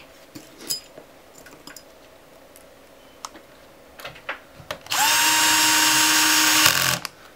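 A power driver fastens screws into the metal cover of an Elo Touch ET1935L monitor, with a couple of seconds of steady whirring near the end after scattered clicks and taps of handling.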